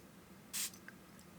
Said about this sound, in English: I'm going to spray it on my skin